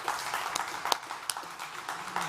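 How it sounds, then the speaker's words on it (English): Audience applause at a South Summit stage event welcoming a speaker, a short burst of scattered hand claps, moderately loud with slight room murmur. "Please give a huge South Summit round of applause for Ryan Neese."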